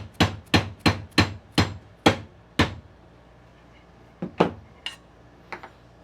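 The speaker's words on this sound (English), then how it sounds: "I'm going to tap the cutoff piece" A hammer taps a small wooden cutoff piece into place while a CNC enclosure is being built and a hinge is set. About seven crisp, evenly spaced knocks come first, then a few lighter, scattered taps, close and alone.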